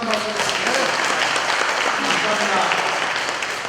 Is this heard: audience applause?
yes